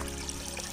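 Water pours into a cooking pot for boiling sweet corn kernels, a short steady splashing stream heard close up with no talk.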